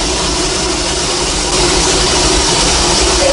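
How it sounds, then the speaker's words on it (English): A working 100-year-old steam-era locomotive rumbles steadily up close, a loud, dense mechanical drone with no breaks. "I've never stood here on a working locomotive."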